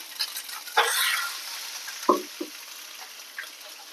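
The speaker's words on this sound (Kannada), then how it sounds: "ಇವಾಗ ಈರುಳ್ಳಿ ಅನ್ನು ಹಾಕ್ತಾ ಇದ್ದೀನಿ" Onion dropped into a hot pan for an egg gravy, a hiss flaring up as it lands, followed by a few stirring knocks and a quieter, steady frying sizzle.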